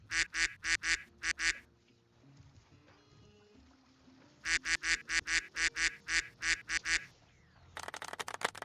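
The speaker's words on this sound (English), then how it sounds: "Spamming it with fucking ducks." Rapid bursts of duck quacks fired off a soundboard in repeated volleys, about seven in a row, a pause with low background game music, then another run of about eleven, ending in a dense noisy burst; loud and close.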